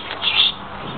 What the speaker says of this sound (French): Alors désolé pour les bruits d'oiseaux.